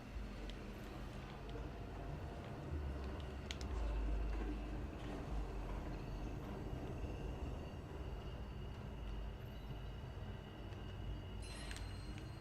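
A train runs in the Watch Dogs video game, a faint steady rumble and clatter of rail cars with a short hiss burst near the end, no voices.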